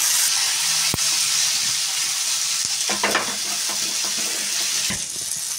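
Chopped tomato and capsicum sizzle loudly in hot ghee in a kadai, a steady hissing fry broken by a few sharp clinks and stirring scrapes.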